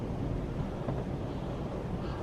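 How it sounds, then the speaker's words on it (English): Strong wind blowing outdoors at dusk during a storm with lightning, a steady low roar and rumble buffeting the microphone, fairly faint and continuous with no talking. "it's getting windy like crazy."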